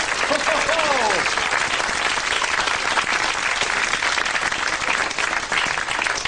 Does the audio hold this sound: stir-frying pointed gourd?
no